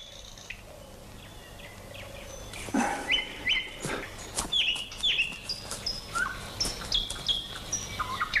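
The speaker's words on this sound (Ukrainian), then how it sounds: "Ти що, не бачиш, що ми слухаємо з паничем солов'їв?" Nightingales sing in a quiet outdoor setting, a series of clear whistled phrases and chirps starting softly and growing denser, moderately close, with faint insect-like background and no talking.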